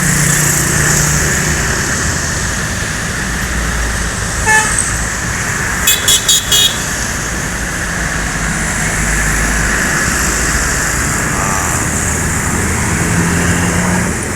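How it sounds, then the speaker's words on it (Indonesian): An MPM Mutia intercity bus from West Sumatra pulls into a busy Jakarta terminal, with a continuous engine rumble and traffic noise, short horn toots and a brief burst of rapid clicking partway through. "Ini MPM Mutia masuk yang kelima ini."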